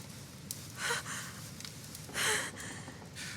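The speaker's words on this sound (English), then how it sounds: "Her breathing is becoming stable" A woman's laboured breathing in the video game The Council, a few close, soft gasping breaths and sighs spaced out over quiet background.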